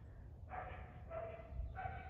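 A dog barks inside a barn, three short barks in quick succession, moderately close but not loud, over a low rumbling background.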